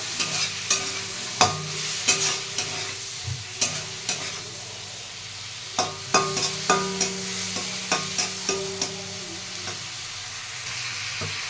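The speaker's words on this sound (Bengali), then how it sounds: "চিংড়ি মাছটা ভাজা হয়ে গেছে, নামিয়ে নেব" Prawns seasoned with salt and turmeric sizzle in a pan while being stirred, a steady frying hiss punctuated by a dozen or so distinct scraping clicks of the spatula at an irregular rhythm, close and moderately loud, with no talk.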